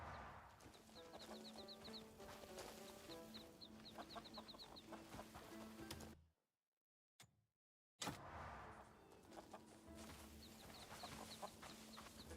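Rooster clucking in the video game Crimson Desert, a farmyard fowl clucking repeatedly over a busy game soundscape, broken by a short silent gap midway.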